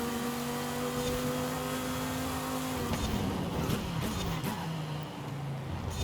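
Spanish supercar in Forza Horizon 5 revving steadily, its engine pitch holding then dropping and climbing again as it exits corners, loud and continuous with no talk.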